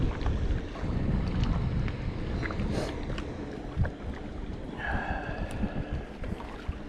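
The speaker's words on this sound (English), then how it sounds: "It is a windy day today." Wind gusting across a lake during a trout fishing outing, a constant loud buffeting roar with low rumbling, and a faint tonal whine briefly rising over it near the end.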